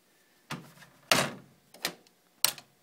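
Four sharp mechanical clacks and latch knocks from the plastic drive bay door of an Acer Aspire Easystore server being opened, spaced irregularly and close by, with no talk.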